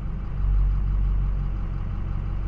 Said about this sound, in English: you can hear the engine change in sound